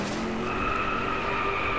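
Car tyres squeal steadily while drifting in the DRIVECLUB racing game, a sustained high-pitched screech over the constant drone of the engine.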